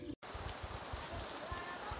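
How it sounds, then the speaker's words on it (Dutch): Heavy tropical rain pours down in Viñales, Cuba, a steady dense hiss of drops hitting surfaces close by, with faint voices underneath. "ondertussen regent het stoei en snoei hard"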